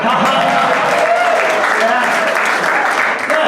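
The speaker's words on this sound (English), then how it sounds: "I want you to laugh, applaud. Let's hear what that sounds like." A comedy club audience at the Tampa Funny Bone laughs and applauds loudly on cue, a close, continuous roar of clapping mixed with voices that holds steady for over three seconds.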